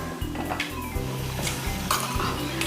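Onion sautéing in a pot for Maharashtrian pithla, with steady stirring and scraping of a spoon against the metal over a continuous low frying sizzle, close and moderately loud, no voices.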